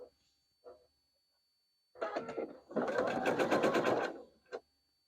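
A sewing machine stitches quilt block fabric for a barn star sampler, with short close whirring bursts, then a longer steady run of rapid needle strokes before stopping.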